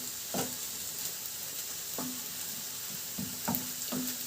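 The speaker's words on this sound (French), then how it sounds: "Allez, maintenant on fait revenir" Samosa filling frying in a pan, a steady sizzle with several sharp scraping stirs spaced every second or so, fairly quiet and without voices.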